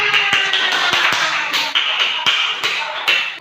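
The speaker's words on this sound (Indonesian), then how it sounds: "Ayo tepuk tangan." Students in an Indonesian classroom applaud all the groups together, a close burst of many hands clapping with sharp irregular peaks over a few seconds.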